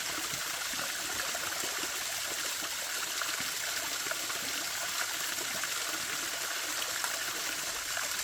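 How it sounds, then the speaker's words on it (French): A small stream flows and trickles continuously nearby, a steady bright wash of splashing water at even loudness throughout, with no voices. "Regardez l'eau ici."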